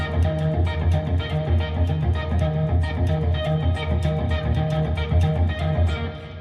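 An electric guitar plays a rhythmic intro: a steady repeating pattern of muted, punchy notes, close and clear, with no talking.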